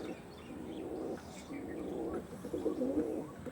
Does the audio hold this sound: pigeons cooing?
yes